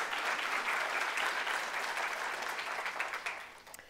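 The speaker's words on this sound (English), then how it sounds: "clap." An audience at a library author event breaks into steady clapping to welcome a historian, a dense wash of applause that holds and then thins out toward the end.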